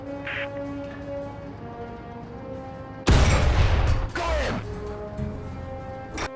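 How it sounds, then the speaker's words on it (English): A tank cannon fires in the War Thunder video game, aimed at an enemy tank's engine from gunner view: one loud, sudden blast with a rumbling tail that fades over about a second, over steady low game engine hum. "Now, switch to gunner view and fire at the tank engine."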